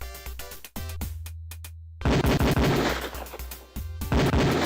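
Beretta pistol shots ring out at a police firing range in the video game Police Quest 4, a rapid series of loud, sharp reports fired in quick bursts.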